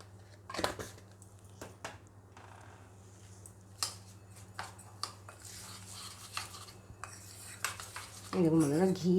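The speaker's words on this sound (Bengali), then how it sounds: "এখন আমি চালের মধ্যে ঘি আর হলুদ মাখিয়ে রাখবো" Washed rice being mixed with ghee and turmeric, heard as quiet, scattered clinks and scrapes of utensils against a dish, with a louder rustling burst near the end and no talking.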